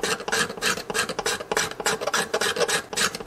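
Steel cabinet scraper rasping across mandolin wood in a workshop, a steady run of short repeated strokes, close and fairly loud, with no talking.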